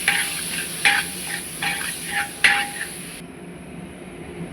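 Boiled elephant foot yam being stirred in a pan for a Kerala-style yam stir-fry, giving a few scraping, clattering strokes of the spoon over a soft sizzle before the sound cuts off.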